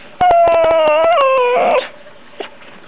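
A Dalmatian puppy lets out a loud, drawn-out whining howl that wavers in pitch for over a second, broken by short yips, then falls quiet with a faint final whimper.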